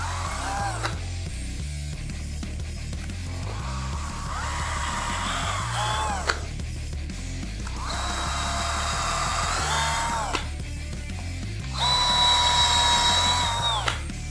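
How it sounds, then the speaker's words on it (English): A power drill whirs in repeated bursts, its pitch rising and falling as it bores neck-screw holes into a wooden Jazz Bass guitar neck, with short pauses between passes. "Now we need to drill our other 4 holes for our neck screws"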